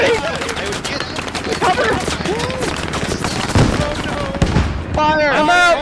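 Sustained helicopter-mounted gunfire in the military shooter Squad, dense rapid bursts running throughout under frantic overlapping shouting from several players.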